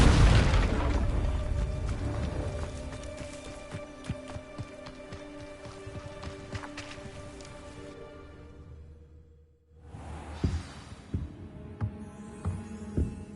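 A Confringo blasting spell explodes in Hogwarts Legacy, a loud, close boom that rolls out and slowly fades over several seconds, followed by a brief near-silence and then scattered softer impacts and crackles.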